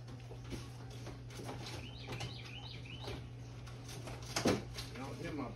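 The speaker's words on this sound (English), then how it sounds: "Y'all hear my songbirds?" Songbirds chirp and sing from just outside a home kitchen in spring, with a few brief high warbling calls rising over a steady low hum and cooking noises, while a person talks nearby.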